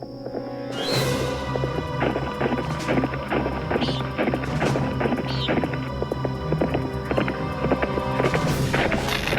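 Rhythmic horse hoofbeats in a Nancy Drew video game clop along at a brisk, steady pace over a windy, airy background.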